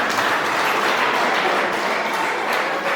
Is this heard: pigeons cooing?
no